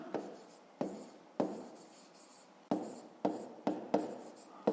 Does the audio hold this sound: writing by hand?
yes